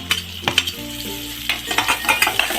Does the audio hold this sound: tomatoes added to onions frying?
yes